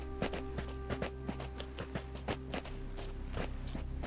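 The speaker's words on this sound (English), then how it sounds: "I feel like I'm definitely hearing footsteps coming from that direction" Footsteps in the video game MYZ: Road to Eden, a steady run of soft thudding steps at a walking pace under a low ambient hum, fairly close.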